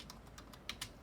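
A short burst of typing on a computer keyboard while entering a search, with about eight close, light key taps and a couple of sharper strokes near the end.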